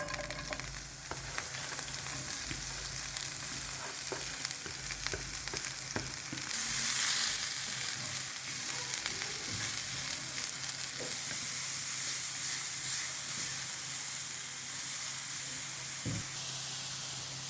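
Leeks fry in a pan for ossobuco, giving a continuous loud sizzle with bursts of hiss and steam and occasional stirring scrapes and utensil knocks.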